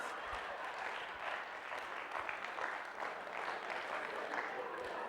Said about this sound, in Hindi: आप इतना तालियां क्यों बजा रहे हैं?